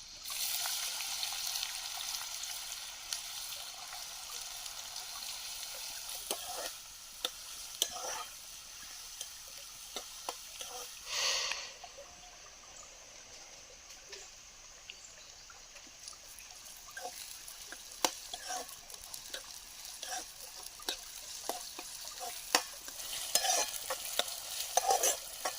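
Onion and green chili fry in a pan with a steady, bright sizzle, while a spoon stirs and scrapes at intervals, some scrapes sharper than others.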